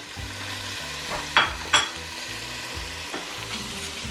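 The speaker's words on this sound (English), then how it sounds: "I'm just going to put this block of butter into it" A block of butter melting in a pan with onions, peppers, garlic and ginger, giving a steady close sizzle broken by a few sharp clinks of a utensil against the pan.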